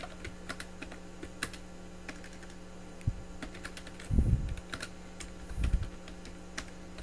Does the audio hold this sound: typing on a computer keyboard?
yes